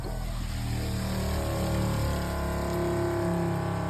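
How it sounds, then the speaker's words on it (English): A boat's freshwater pump runs after its breaker is switched on, pushing water through newly installed plumbing: a steady, close motor hum with a low droning tone and faint watery rush, continuous and unchanging throughout with no voices. "I'm about to turn on the breaker and see if we get water pumping through this bad boy"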